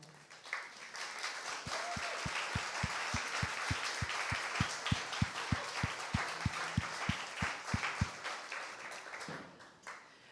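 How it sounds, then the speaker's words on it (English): Guests at a fundraising brunch give a round of applause for the board of directors, steady clapping with a distinct rhythmic clap near the microphone repeating for several seconds before fading. "I'd like to ask all members of our board of directors to please stand so we can recognize you with a round of applause."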